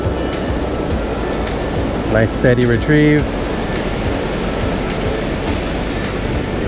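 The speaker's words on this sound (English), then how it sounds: "Waves building on it, just broke on top of it." Surf waves roll and break along a beach as steady, loud broadband wash, with someone briefly talking over it partway through.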